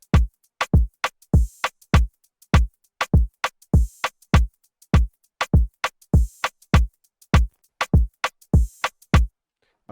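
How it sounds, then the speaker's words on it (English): An afrobeats drum loop programmed in FL Studio, punchy kicks with snare hits and open hi-hats in a bouncy syncopated pattern, loud and dry with no talking. "So right after that, I brought in the kick."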